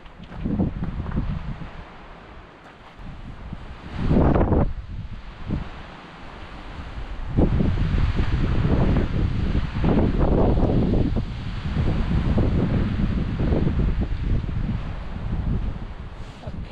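Wind gusts at the Grand Canyon batter the microphone in uneven waves, swelling loud and dropping back over about seventeen seconds, with no voices.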